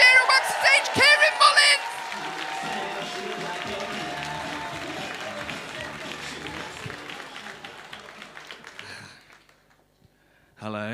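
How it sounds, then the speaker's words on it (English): Audience applause and cheering greeting comedian Kieran Mullins at an online comedy show, a loud burst of clapping and whoops at the start that fades into a quieter, steady crowd noise before trailing off to near silence. "start the applause!"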